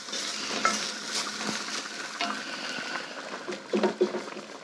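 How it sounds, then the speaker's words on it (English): Pieces of lamb for an Irish stew with Guinness go back into a hot pot and fry with a soft sizzle, with brief scrapes and clinks of a utensil against the pot. The sounds stay fairly quiet and close. "Now we need to add our meat back into this pot."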